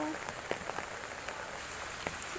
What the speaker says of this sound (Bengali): এই দেখো আমাদের এখানে বৃষ্টি হচ্ছে এত